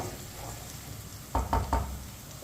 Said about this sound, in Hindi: अदरक और लहसुन को 1 मिनट के लिए मैंने पका लिया है